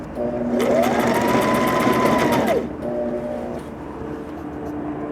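A sewing machine runs steadily for about two and a half seconds while stitching a Green Lantern costume, its motor giving a high whirring hum, then eases into a quieter idle hum.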